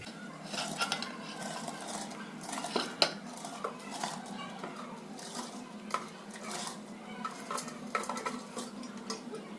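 Soaked rice stirred into a pot of water with a metal utensil, with repeated light scraping and clinking against the pot at close range and no talk, during Kolkata-style chicken biryani preparation.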